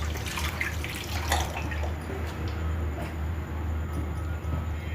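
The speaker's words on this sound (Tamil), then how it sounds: "இப்போ வந்து நல்லா இன்னும் கொஞ்சம் நிறைய தண்ணி விட்டுக்கோங்க." Water being poured over sesame seeds in a vessel to rinse them before grinding out grit, a steady close trickle and splash over a constant low hum, with no talking.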